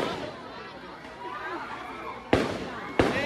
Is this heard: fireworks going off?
yes